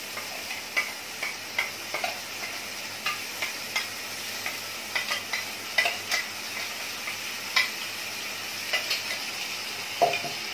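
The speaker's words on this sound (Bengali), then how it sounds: "এখন আমি এটা আদা পেঁয়াজ রসুনটা ভালো করে কষাবো।" Ginger, onion and garlic paste is sautéed in oil for a chicken roast: a low, continuous sizzle runs under repeated sharp taps and scrapes of a spoon stirring against the pan, spaced irregularly and close.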